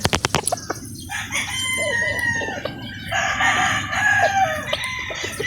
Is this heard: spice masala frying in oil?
no